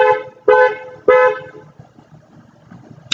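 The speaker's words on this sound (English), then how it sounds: "My neighbor is just honking away" A neighbor's car horn honks three times nearby: two long blasts, then a shorter one, each loud and clear against faint background noise.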